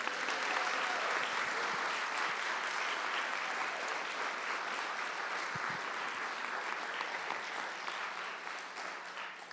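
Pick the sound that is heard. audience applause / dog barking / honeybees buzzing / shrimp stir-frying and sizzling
audience applause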